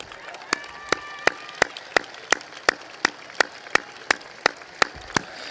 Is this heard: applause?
yes